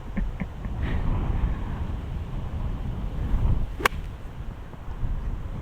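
Wind gusting across an open links golf course, a steady broad rushing roar buffeting the microphone, with a brief sharp swish partway through, no talking.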